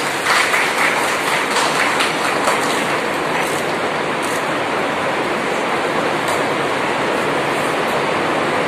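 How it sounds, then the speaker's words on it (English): Sustained applause from an audience at a formal ceremony, a dense, even crackle of many hands clapping at steady loudness throughout, with no voices over it. "A round of applause please."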